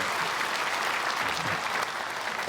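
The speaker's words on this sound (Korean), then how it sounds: "크게 박수로 환영하겠습니다" A church congregation claps together to welcome newcomers during a Sunday worship service, a short burst of dense, even applause.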